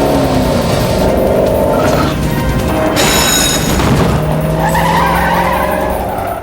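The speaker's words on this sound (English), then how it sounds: "she also rams the parole officer's car and totals it" In a film scene, a car rams another car and wrecks it: loud tire skidding and engine roar with a sudden crash and crunching impact midway, then continued screeching and rumble.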